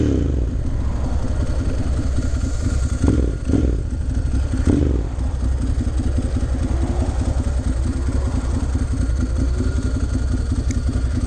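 A 2009 Ducati Monster 1100 with a baffled exhaust idles close by in a deep, steady, lumpy throb, with a few brief blips of revving early on and no talk.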